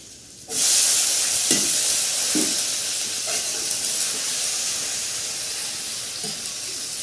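Garlic dropped into hot oil for a tadka on a chulha, meant for sarson da saag, bursts into a loud sizzle that settles into a steady hiss with a few faint clinks of stirring.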